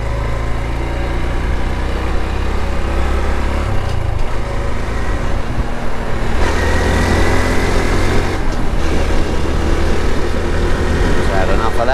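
Honda CT125 Trail Cub motorcycle engine running steadily while riding, a loud continuous drone mixed with heavy wind rush, and a voice talking faintly at times.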